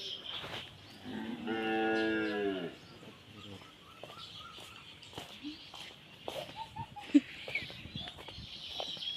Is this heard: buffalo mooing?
yes